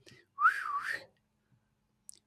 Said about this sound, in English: I'm going to say whistling.